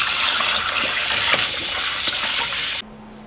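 Pork stomach rinsed of vinegar under a running tap: a steady, close rush of water splashing for a few seconds, then cutting off abruptly to a faint hum.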